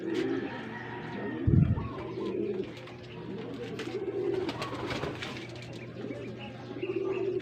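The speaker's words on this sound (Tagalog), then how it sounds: "Datingan na yung mga ibon." Pigeons coo softly and steadily in the background during racing pigeon training, with a brief burst of wing flapping near the start and a few faint chirps.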